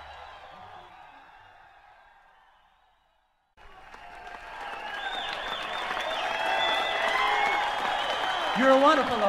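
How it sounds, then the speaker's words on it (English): Audience clapping and cheering at the 1979 Bean Blossom bluegrass festival with a bluegrass performer, rising from a brief silence into sustained, swelling applause with whoops, while a voice speaks over the crowd. "Thank you so much for the nice hand and round of applause you've given us"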